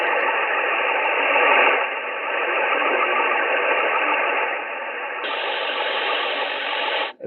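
Shortwave radio broadcast in Farsi buried under a bubble jammer, a steady warbling, burbling tone filling the band, loud and unbroken, with a slight shift in pitch near the end before cutting off.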